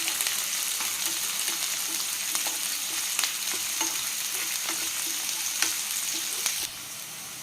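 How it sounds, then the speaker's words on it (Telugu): Onions frying in a pan, a steady dense sizzle with scattered crackles and pops throughout, close and fairly loud, no voices. "ఉల్లిపాయలు వేగినాయండి"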